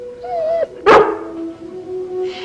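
A dog gives a single sharp bark close by, with a short whine before it and quiet room tone after, set in an indoor family scene.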